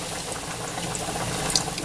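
Beef stock is poured slowly into a pan of flour and grease for Salisbury steak gravy, making a short, steady, close liquid trickle and bubbling sizzle.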